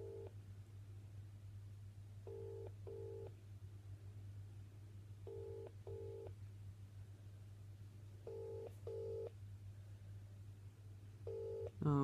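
A phone call being dialed and left ringing, a steady tone underneath with paired ringback beeps repeating at regular intervals, faint and without anyone talking.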